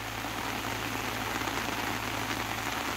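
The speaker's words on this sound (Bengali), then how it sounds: "প্রচুর বৃষ্টি পড়ছে" Heavy rain falls on a village fish pond, a loud, dense, unbroken hiss with no voices.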